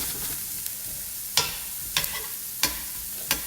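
Onions frying in a pan give a steady close sizzle, with about four sharp clacks of a utensil stirring and scraping at the pan, and no talk.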